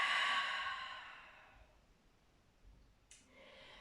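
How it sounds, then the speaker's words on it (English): A long, breathy exhale out of the mouth during a yoga flow, softening and fading over about a second and a half in a quiet room, followed by a faint click and a soft breath. "And again, out of your mouth, exhale."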